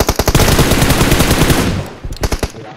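Loud, close automatic gunfire in PUBG Mobile comes as a rapid burst of sharp shots. It drops into a brief lull, then a shorter second volley follows near the end.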